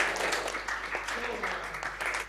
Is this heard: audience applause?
yes